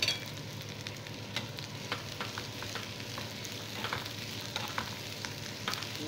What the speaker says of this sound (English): You just shallow fry them.